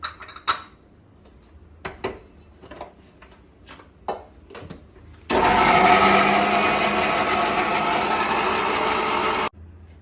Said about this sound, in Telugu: మిక్సీ పట్టేసుకుందాం ఒకసారి.